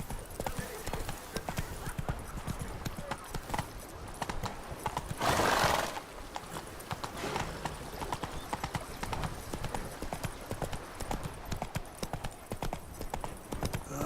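Roach, the horse in The Witcher 3 video game, gallops with a fast, even clip-clop of hooves on the ground all the way through, broken once by a brief loud burst of noise midway.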